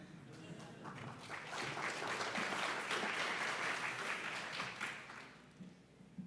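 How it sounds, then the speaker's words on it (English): An audience at the MIDL 2023 conference claps after an announcement, a dense round of applause swelling for several seconds and then fading away, with some voices murmuring underneath. "I like that we clap for announcements,"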